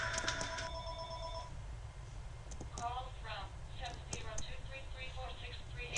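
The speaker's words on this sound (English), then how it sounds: "Okay, I better go check that phone." A telephone bell rings in a room in a few short trilling bursts, followed by scattered clicks and faint electronic tones over a steady low hum.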